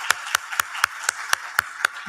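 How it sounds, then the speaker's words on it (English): Audience at a technology conference claps in a steady, evenly spaced rhythm of about eight sharp claps over two seconds, sounding like a few hands close by rather than a full crowd, with no voices. "please give him a round of applause"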